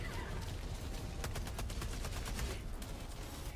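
Video game gunfire rattles in quick bursts of shots, fairly quiet and steady over a few seconds with no talk.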